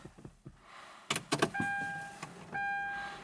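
A 2011-era Hyundai Grandeur LPI Q270, the black LPG model with about 144,000 km, cranks and starts: a few door and interior clicks, then a short starter whir, the engine catching into a steady idle, and dashboard warning chimes ringing twice.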